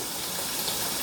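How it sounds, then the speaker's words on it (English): Tap water runs steadily from a kitchen faucet while raw chicken breasts are rinsed under it, a close, continuous hiss and splash with no talking. "I'm washing my chicken off real good. I know you can know it because you hear my water running."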